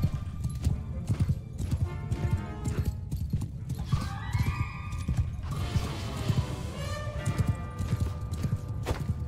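Horses gallop with steady clip-clop hoofbeats and occasional whinnies amid a Bannerlord Game of Thrones mod battle scene, the thudding hooves loud and continuous over layered game effects.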